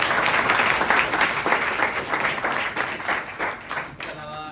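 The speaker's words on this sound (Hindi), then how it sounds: "एक तो ताली हो जाएगी" An indoor audience of students applauds together, dense sustained clapping that stays loud and close, then thins out at the very end.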